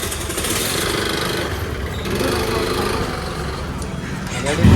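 A motorcycle engine runs steadily at idle, a continuous mid-pitched rumble with a brief louder burst at the very end.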